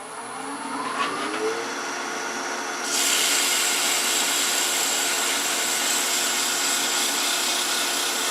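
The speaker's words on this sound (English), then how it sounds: "we have to sand here if you want to power sand, because you can't come back to it" A power sander working 150-grit paper against a turned wooden twig pot, a continuous loud whirring hiss that rises in intensity partway through and holds steady, close and without talk.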